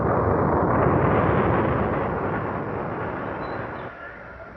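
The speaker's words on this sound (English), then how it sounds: "Lift off! It's going!" A rocket launch lift-off effect from a radio drama, a loud, dense roar that holds steady for several seconds and then eases slightly toward the end, alone with no voices over it.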